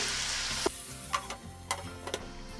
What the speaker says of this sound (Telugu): ఇవి లైట్గా ఫ్రై అయిన తర్వాత టమాటా ముక్కలు కూడా యాడ్ చేసుకుందాం. ఒకసారి బాగా మిక్స్ చేసుకుని